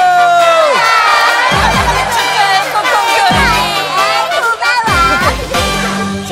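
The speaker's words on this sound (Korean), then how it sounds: "다 함께 박수!" A children's audience on a kids' TV show bursts into cheering and shouting, bright young voices whooping over a steady, loud crowd roar that swells and dips across several seconds.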